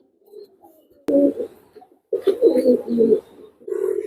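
A high-flying Teddy pigeon coos close by in several low, throaty bursts with short pauses between them, after a sharp click near the start.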